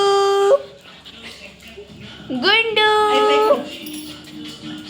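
A pet dog whimpers and lets out a drawn-out, rising yip close by, with someone talking before and over it.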